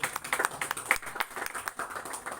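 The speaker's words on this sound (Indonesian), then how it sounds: "Tepuk tangan buat Mbak Nela." Audience applause at an Indonesian university gathering, a brief patter of scattered handclaps, irregular and moderately close, fading out after a couple of seconds.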